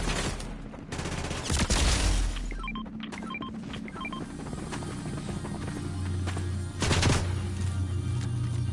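Fortnite gunfire cracks in loud bursts at the start and again near the end, with a steady mechanical drone running underneath between the volleys.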